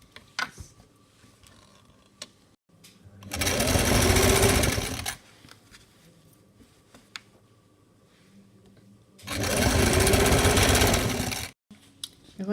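A sewing machine stitches a half-inch fold on a dress sleeve in two distinct loud bursts separated by quieter pauses with faint handling noises.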